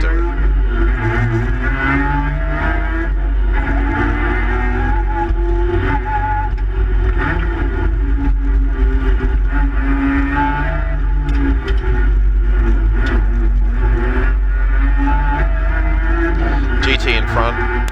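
A Mazda RX2 race car engine roars steadily throughout on a track, with gear changes and road noise, accompanied by a continuous rumble and some faint talk in the background.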